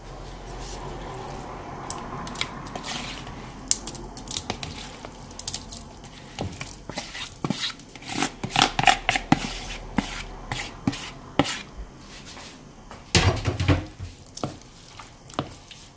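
Stuffing with cheese being mixed in a bowl for mini quiches, irregular wet squishing and clinking utensil taps that grow busier and louder toward the end, close and alone.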